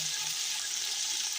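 Soaked tamarind fries with masala for tahari, making a soft, even hiss that holds steady through a brief moment without stirring or speech.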